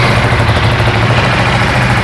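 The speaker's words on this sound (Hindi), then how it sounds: "तो ये कुछ है इसकी आइडलिंग पे साउंड, जो कि थोड़ी सी बेसी साउंड है" A KTM Duke 390 motorcycle engine idles steadily up close, a loud, continuous, slightly bassy low rumble with an even pulse and no talk over it.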